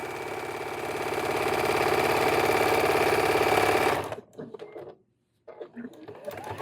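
Sewing machine stitching denim binding onto a vintage throw quilt, running in a steady fast hum for about four seconds, then stopping, followed by faint handling noises and quiet talk.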